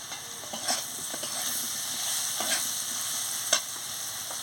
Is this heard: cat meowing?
no